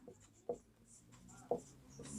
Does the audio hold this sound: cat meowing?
no